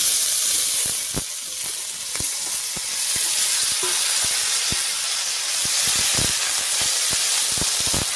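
Cut potatoes, dheki greens and tomato sizzle in hot mustard oil over a cumin and bay leaf tempering, a loud steady frying hiss broken by sharp crackles and stirring taps, with no talk.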